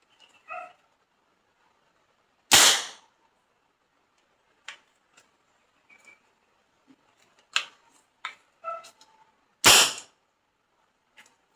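An 8mm steel ball sniper-type air gun dry-fired without ammunition gives two sharp, loud cracks several seconds apart, scattered with small clicks and ticks of handling in a quiet room.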